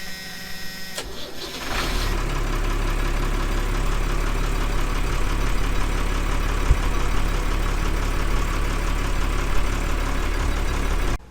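A trawler's port engine in the engine room cranks briefly, catches and settles into a loud, steady rumbling run that continues unbroken, with no voices.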